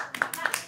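A few people clap in an uneven, sparse rhythm, several distinct slaps in quick succession during a festive match event, fairly close.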